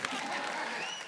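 A studio comedy show audience gives a brief burst of applause, a dense wash of clapping that stays steady and fairly quiet for about a second.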